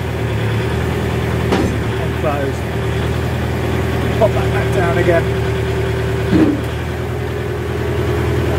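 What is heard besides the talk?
tractor engine idling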